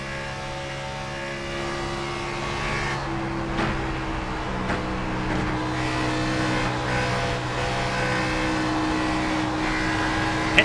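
A NASCAR Cup Series sim race car engine at Chicagoland Speedway drones steadily at constant pitch as it enters pit lane, a loud sustained buzzing hum with slight fluctuations and no talking.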